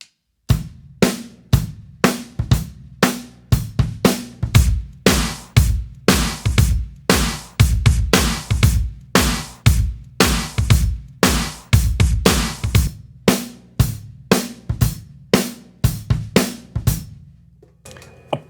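The basic drum groove of a song repeating steadily, punchy kick and snare hits with crisp cymbal strokes in an even rhythm, close and loud.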